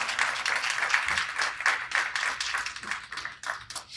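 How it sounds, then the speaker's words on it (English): Audience at a roundtable panel event claps for the panelists, a light, patchy patter of individual hand claps that stays fairly soft and uneven throughout. "Let's go ahead and give them a round of applause."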